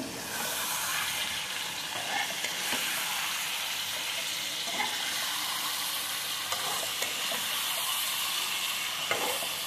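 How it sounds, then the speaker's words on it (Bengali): Meat frying with spices in a pan, a steady loud sizzle and hiss throughout with occasional soft stirring scrapes and no talking. "এখন মাংসটা দিয়ে ভালোভাবে কষিয়ে নেব।"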